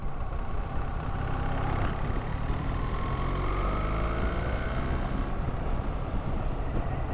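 BMW R1300GS motorcycle pulling in fourth gear out of a 30 zone, a steady engine drone with a gently rising tone under heavy wind rush, continuous and fairly muffled.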